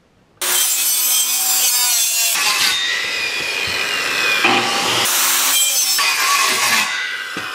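A circular saw cuts through wood up close, a loud continuous whining rasp with a brief tonal hum as the blade spins up at the start and shifting pitch as the cut goes on.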